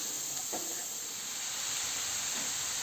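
Steady bright sizzling hiss of garlic frying in a hot pan, continuous and close, with a faint clink near the start.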